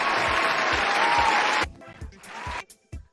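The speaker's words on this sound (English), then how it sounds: "so that I can click play and we can get applause like this" A recorded applause sound effect plays back, a broad burst of crowd clapping that cuts off sharply halfway through, followed by scattered thumps and a brief fainter return.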